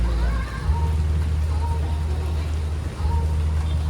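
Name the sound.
rain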